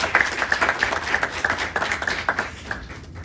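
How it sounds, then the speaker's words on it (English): Audience at a 2021 class graduation ceremony applauds itself, a steady burst of many hands clapping with a few sharper individual claps standing out near the front, fading slightly at the end. "I want you guys to give yourself a round of applause"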